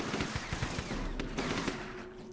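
Steady, rapid gunfire in the tactical game UFO Aftershock, a dense run of automatic shots heard at moderate level with no talking.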